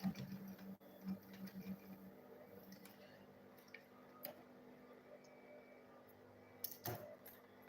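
A sewing machine stitches a one-hand school bag, heard faintly with soft whirring bursts and light clicks, quiet and close, without talking.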